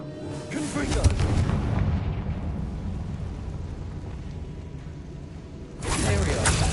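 Confringo fire spell from Hogwarts Legacy bursting in a loud, booming blast at the start, rumbling as it fades, then a second sharp explosive burst near the end, with game sound and voice underneath.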